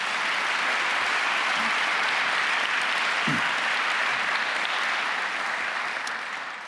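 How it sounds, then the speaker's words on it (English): An audience at a city address gives the New World Symphony a steady, full round of applause, a broad continuous roar of clapping that holds level and tapers off at the close. "Please give them a big round of applause"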